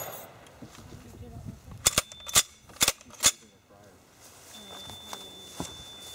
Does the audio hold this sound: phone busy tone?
no